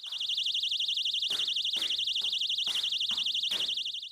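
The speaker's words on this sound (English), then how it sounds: "if you get an alarm that has a very loud sound" A personal safety alarm shrieks continuously at a loud, piercing pitch with a rapid warbling modulation, sounding alone for the whole span.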